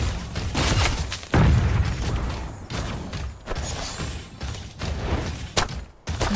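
Dense, loud bursts of gunfire and booming impacts in the video game Super Mecha Champions, with whooshes and crashes overlapping in a continuous chaotic barrage.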